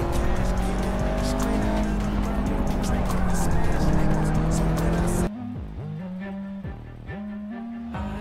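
Racing video game car engine roars steadily with tire noise while driving off road on a track, played with a Logitech G920 wheel; loud and continuous, then the engine drops and revs in shorter surges.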